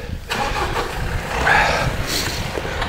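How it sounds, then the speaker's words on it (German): A truck pulls away near a campsite, its engine rumble building and swelling over a few seconds before easing, heard fairly close and alone. "den LKW-Fahrer, den du jetzt gerade wegfahren hörst"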